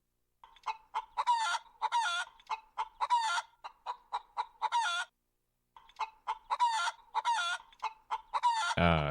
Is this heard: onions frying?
no